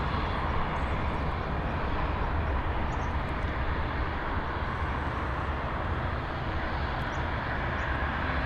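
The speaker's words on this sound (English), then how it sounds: "Absolutely beautiful aircraft." An aircraft at Dublin Airport produces a steady, broad engine roar that holds at an even level the whole time, with no speech.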